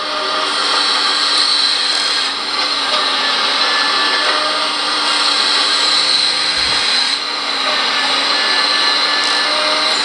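An RC excavator's Servonaut sound system plays a steady, loud hydraulic whine and hiss, running continuously without pauses or talk.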